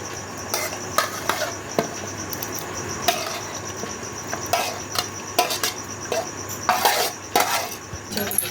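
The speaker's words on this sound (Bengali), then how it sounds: "শাকটা সবজিটা একটু ঘেঁটে নেড়ে দেব" A pot of khichuri, the rice and dal already boiled, gets pre-fried vegetables stirred in, with repeated clanks and scrapes of a utensil against the pot over a soft background hiss; no one speaks.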